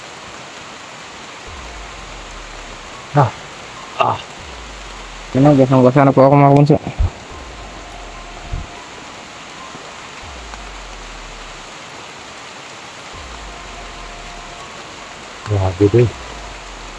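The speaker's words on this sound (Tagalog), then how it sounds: "Sobrang lakas po ng ulan dito" Steady heavy rain hisses as a constant wash, with a person speaking briefly over it a few times.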